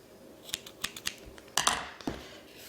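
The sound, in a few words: scissors cutting crochet yarn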